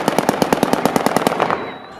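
Armed supporters of Ahmad Shah Massoud fire guns in the streets of Kabul on the anniversary of his death. About fourteen sharp, evenly spaced shots come in a rapid automatic burst, then stop abruptly.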